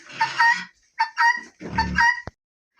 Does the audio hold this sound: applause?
no